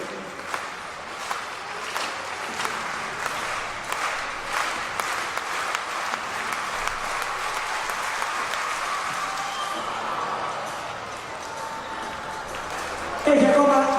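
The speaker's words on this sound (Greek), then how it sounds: "Μεγάλο χειροκρότημα στο Μίκο." Stadium crowd at an international athletics meeting in Cyprus clapping rhythmically for an athlete, a regular beat of claps running under an announcer's voice, swelling toward the end.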